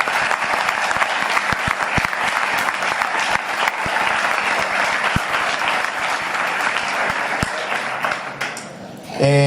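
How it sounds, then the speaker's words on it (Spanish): Loud, dense applause from a conference crowd in Málaga, sustained clapping from many hands with a few sharper individual claps, ending abruptly with a brief rustle or voice at the close. "que le diéramos un fuerte aplauso por su valentía"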